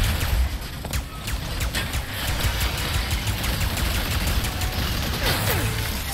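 Gunfire in the video game Ratchet and Clank: Rift Apart, a dense, continuous wash of sci-fi weapon blasts and crackling impacts with scattered sharper shots over a steady low rumble.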